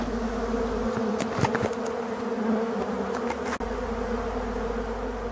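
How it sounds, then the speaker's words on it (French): Black honey bees swarm over honey extraction equipment, licking it clean: a steady, dense buzzing drone from many insects close by, with a few louder individual bees passing near, no voices. "les abeilles ont bientôt fini la vaisselle et elles rentrent toujours un petit peu de miel encore dans leur ruche"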